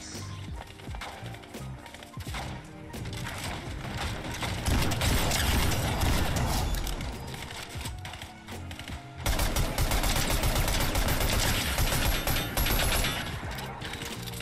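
Gunfire in the Fortnite Chapter 5 video game, rapid overlapping shots and mechanical clatter running loud and continuous throughout.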